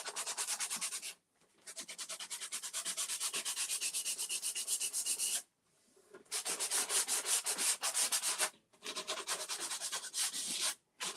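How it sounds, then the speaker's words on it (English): Rapid rhythmic rasping of sandpaper rubbing the edges of wooden trim, close and loud, in several long bursts separated by brief pauses. "So I'm just sanding the edges of that trim"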